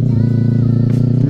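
Steady low engine drone from a sports bike motorcycle being ridden, a continuous close rumble with a faint rattle near the end and no talking.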